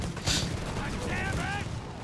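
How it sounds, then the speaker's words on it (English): A .30 cal machine gun in a Company of Heroes 3 battle rattles out a sustained burst amid the wider din of combat, with a voice speaking over the firing. "30 cal joining in."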